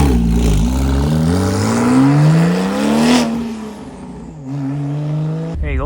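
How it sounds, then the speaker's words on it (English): A Porsche 996 Turbo at a mountain roadside stop in California revs loudly up and back down, its engine note climbing and falling before settling into a lower idle-like drone. "Just a great sounding 996 turbo."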